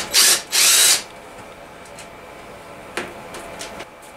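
A power tool spins out half-inch bolts from the closing plate of a Kohler KT17 engine during teardown: two short, loud, close whirring bursts, followed by quieter clinks and handling sounds.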